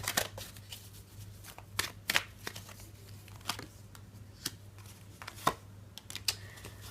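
Tarot cards being shuffled close up: crisp, irregular riffles, flicks and soft taps of card stock against a faint steady hum, with no talking.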